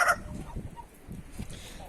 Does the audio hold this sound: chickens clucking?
yes